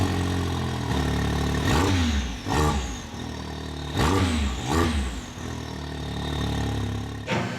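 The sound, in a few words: Can-Am Maverick X3 engine starting and revving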